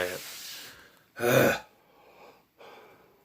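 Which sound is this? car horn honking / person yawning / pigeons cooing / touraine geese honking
person yawning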